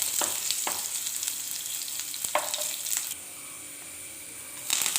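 Mustard seeds and chopped shallots fry in hot oil, giving a steady broadband sizzle with sharp popping crackles scattered throughout, the hiss dropping slightly midway then swelling again, close and fairly loud with no talking.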